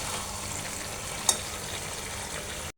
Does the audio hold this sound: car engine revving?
no